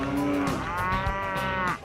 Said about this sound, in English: More than 100 burly bovine steer their way down Wyatt Earp Boulevard.